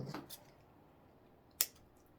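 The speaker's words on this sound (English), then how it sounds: "I might actually just cut that one right in half." Scissors cut a craft decoration piece for a soup cup snowman, a couple of short, quiet snips near the start and one sharp close snip later, with no talking.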